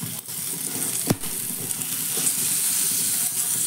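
A large tomato frying in a pan, giving a close, steady sizzle with one sharp knock of a utensil early on and a brief quieter stretch at the start, with no talking.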